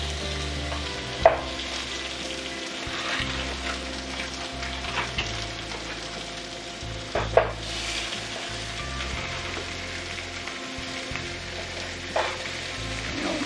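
Home-ground burger patties fry in a pan with a steady close sizzle and crackle, broken by a few sharp knocks and scrapes of a utensil against the pan.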